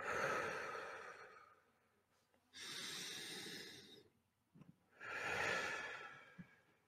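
Deep, slow breaths during a guided breathing exercise: three long, airy exhales with pauses between them, close to the microphone, with a brief sniff near the end and no talking.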